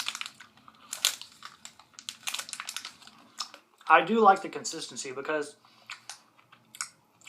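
Big bite taken from a Chase's Cherry Mash candy bar, crunchy and smooth, with several brief chewing clicks between bursts of close talk.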